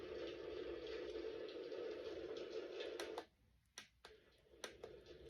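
Steady rain sound from a relaxation sound machine turned up to full volume, a dense even hiss that cuts off abruptly partway through, leaving a few clicks and faint thumps.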